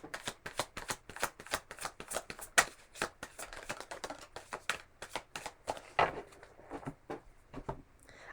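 A deck of tarot cards is shuffled by hand in a quiet room, with crisp, rapid riffles and soft slaps repeating in close, steady bursts.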